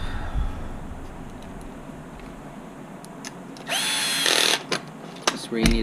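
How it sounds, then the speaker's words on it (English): A power drill working on parts of an HB Racing D817V2 RC car kit, a brief high whirring burst in the middle of the clip, set against quiet background noise and a few small clicks. "Where you need a good drill again."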